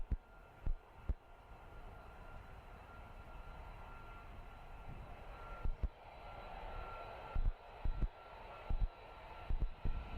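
Military jet aircraft flying at night over RAF Lakenheath, a steady distant roar rumbling continuously with a few brief thumps and knocks close by.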